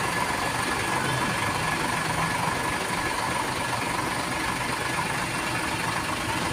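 Idling engines of cars and heavier vehicles in a traffic jam on a Philippine road near Plaridel and Santa Rita, a steady loud rumbling drone that fills the whole stretch with no speech.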